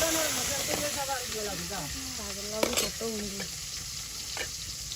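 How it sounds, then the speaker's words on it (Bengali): Small river fish (isha, tiny shrimp-like fish) frying in a thin layer of hot oil in a village kitchen, a steady close sizzle with bursts of crackle and stirring, while a person talks over it. "তো তেল হয়ে গেছে, এখন ইসা মাছগুলো দিয়ে দিতেছি।"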